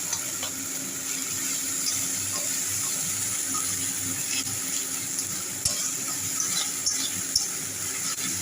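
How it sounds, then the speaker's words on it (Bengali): Tomato, green chili, ginger and ground coriander, cumin and chili powders fried and stirred in a pan, a steady dense sizzle with a few sharp scraping knocks of the spoon toward the end, no talk. "এবার আরও ভালো করে কষাবো।"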